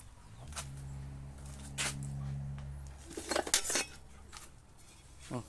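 Plates and dishes are handled nearby, with a few clear clinks and clatters in two short bursts over a low, steady mechanical hum and no talk.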